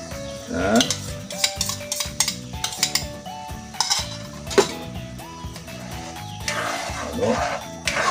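Egg being stirred into galunggong fish sarciado in a pan, with repeated scraping and clinking of a utensil against the pan in an irregular rhythm over a low simmer, close and moderately loud.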